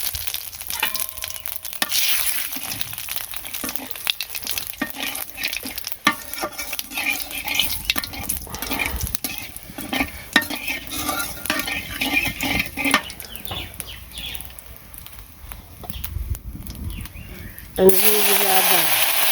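Food frying and being stirred in a pan in a home kitchen, a steady sizzle with scraping and clinking of a utensil against the pan, with a voice talking over it.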